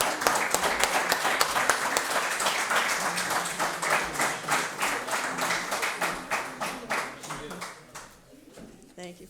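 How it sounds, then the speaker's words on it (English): An audience at a candidate night in a Legion hall claps together, a dense round of applause that thins into scattered claps and fades toward the end. "But I want to give a round of applause to this group while Fred comes on up here."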